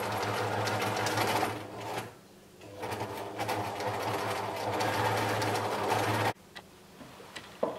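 A sewing machine stitches an elastic waistband on boxer shorts, reversing repeatedly. Its steady close whirring runs in bursts, pausing briefly near the start and cutting off abruptly before a quiet end.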